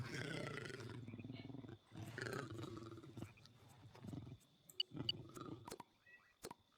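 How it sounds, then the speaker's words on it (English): A pet cat yowls close by indoors, giving two long drawn-out wailing calls, followed by scattered small clicks and knocks. "Y'all hear that? That's my cat."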